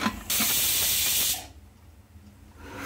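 A pressure cooker cooking dal lets off a loud, harsh burst of hissing steam lasting about a second, which cuts off sharply and leaves a quiet kitchen murmur.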